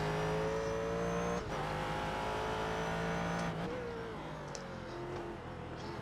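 A race car engine in the iRacing sim at Watkins Glen holds a steady, droning tone, dips briefly as if shifting or lifting, then climbs again while gradually fading.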